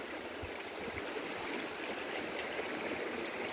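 River water flows in a steady, even rush with no break, a constant broadband wash heard up close and alone.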